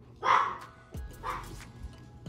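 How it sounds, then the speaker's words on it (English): Little puppies barking in the background during a trading card pack opening, two short high yips about a second apart, clear but not close, with a faint low hum underneath. "They got the little pups barking in the back."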